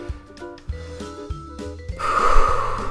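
A loud, rough exhale or snort-like breath close to the mic, heavy and noisy, rising over a steady musical background.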